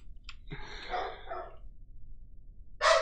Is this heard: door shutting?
no